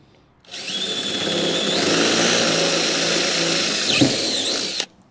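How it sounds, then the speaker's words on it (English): A power drill bores holes in RV steps: the motor spins up into a loud, steady whine with the bit grinding through metal, a brief bite near the end, then stops. "we're just going to take a drill motor and a drill bit,"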